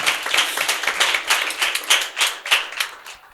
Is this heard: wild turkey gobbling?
no